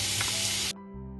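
Garlic goes into a pot of peppers frying without oil, and a sharp hiss of sizzling bursts up briefly before cutting off, leaving a low steady hum.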